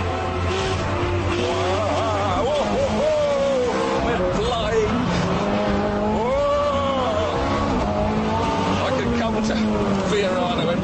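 A Ferrari F430 Scuderia's engine revs and wails while its tyres squeal through power oversteer, pitch rising and falling with throttle over a long stretch, loud and close, with someone talking over it.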